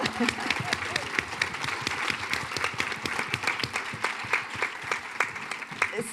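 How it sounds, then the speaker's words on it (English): Audience applause at a women business leaders C-suite panel forum, a steady dense wash of many hands clapping that holds evenly throughout without fading. "Let's have a round of applause"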